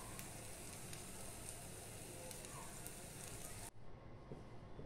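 Fasting-day potato patties fry in a pan over a fairly high flame, giving a steady, loud crackling sizzle that runs unbroken for most of the time and then drops sharply to a quieter hiss near the end.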